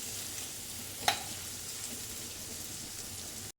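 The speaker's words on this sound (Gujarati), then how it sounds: "તો ડુંગળી સરસ બ્રાઉન કલરની થાય ત્યાં સુધી શેકી લેવાની" Onions frying in a pan for sambar give a steady, soft sizzle with one brief clink near the start, then cut off at the end; no one speaks.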